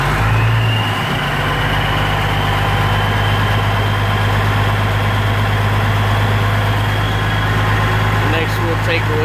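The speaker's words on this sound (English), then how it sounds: "we'll rev the engine up to" An engine is brought up to about 1100 RPM during a leak and crack check, producing a loud, steady, close-up drone with a low rumble that holds level throughout.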